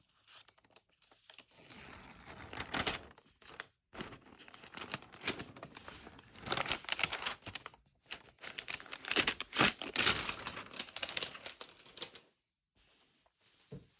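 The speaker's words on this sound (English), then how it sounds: "let's go ahead and take the plastic wrapping off of it" Plastic wrapping peeled off a new 16-inch MacBook Pro M2 Pro, close crinkling and tearing in bursts separated by short quiet pauses.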